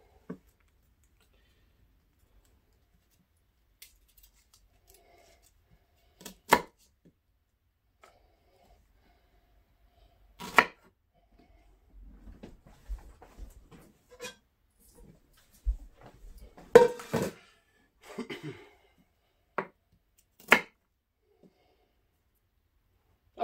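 A knife trims and chops Brussels sprouts on a board in a quiet kitchen, with sparse, isolated sharp taps and thuds coming in scattered clusters against near silence.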